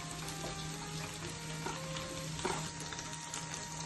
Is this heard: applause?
no